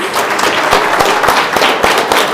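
A school audience applauds the Lily fans at a Battle of the Books competition, with loud, dense clapping that fills the whole stretch evenly and closely.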